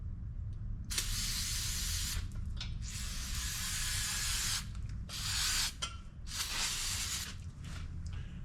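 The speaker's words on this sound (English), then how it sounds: "This is just brake cleaner." Brake cleaner is sprayed onto metal before welding in several close, hissing bursts of a second or more, with short pauses and small handling noises between them.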